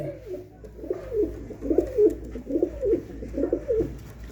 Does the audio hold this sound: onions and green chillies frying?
no